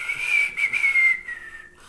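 A person tries to whistle a tune from Willy Wonka and the Chocolate Factory, producing a thin, breathy whistle of a few wavering notes close up, lasting under two seconds.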